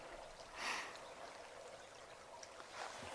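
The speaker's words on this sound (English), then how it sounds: "Nice peaceful little creek in here." A small forest creek flows steadily at low level, a soft continuous trickle of water with a couple of slightly louder splashy surges, no talking over it.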